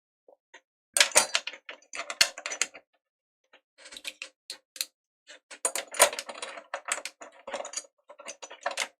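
Small screws on a PS5 APU clamp are backed out with a screwdriver, producing bursts of close, crisp clicking and ratcheting ticks separated by short pauses.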